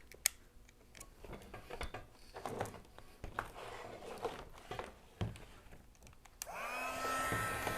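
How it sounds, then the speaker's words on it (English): Electric heat gun switching on near the end and blowing steadily with a loud, even rushing whoosh, following a stretch of faint handling clatter and taps. "We're going to get a heat gun."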